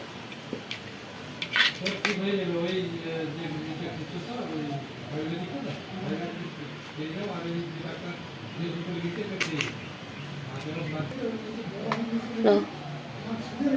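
Homemade raw green mango leather being sliced into pieces with a knife, leaving soft cuts and a few sharp clicks against the board, mostly beneath steady nearby speech.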